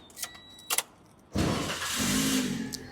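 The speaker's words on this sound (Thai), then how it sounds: "กุญแจอยู่นี่ผมสตาร์ทเครื่องหน่อยนะฮะ" A Toyota Vios with about 54,000 km on it gets its key turned: a tonal chime and a couple of clicks come first, then the engine catches abruptly and settles into a loud, steady idle.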